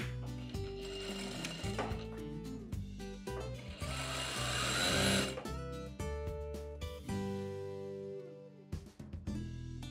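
A sewing machine stitches a half-inch seam along a fused dhoti belt, its steady mechanical whir running in bursts with brief stops, close and clear, with no talk over it.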